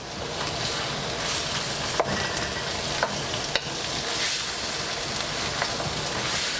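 Tuna sizzling in a hot pan, a steady loud crackle of frying that fills the whole clip, with occasional sharp scrapes and taps of a utensil stirring it close by.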